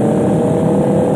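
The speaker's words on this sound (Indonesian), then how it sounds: "Nah, full suara motor." Motorcycles on a Sunday morning group ride heading to Kaliurang give off a steady, loud, continuous engine drone with no breaks.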